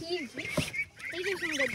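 Goslings and ducklings peep and chirp close by in a rapid, overlapping chorus of high calls lasting under two seconds.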